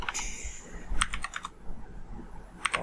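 Keys clatter on a computer keyboard while website footer text is entered in HTML and CSS, in short quick bursts of close, crisp taps with pauses between them.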